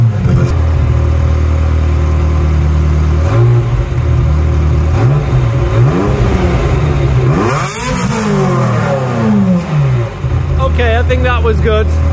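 A Ferrari F355 with a Capristo exhaust idles loudly, then revs repeatedly in rising and falling sweeps, close and powerful, while someone talks over it.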